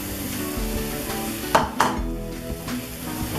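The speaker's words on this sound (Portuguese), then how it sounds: "Agora eu vou colocar a lentilha." Lentils tip into a pan of sautéed onions and rice, set off by two sharp clattering impacts followed by steady sizzling and frying, close and moderately loud with no talking.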